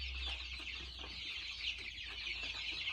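Young chicks let out into a corner of a shed make a steady, dense chorus of high peeping and cheeping, continuous and moderately close, over a low background hum.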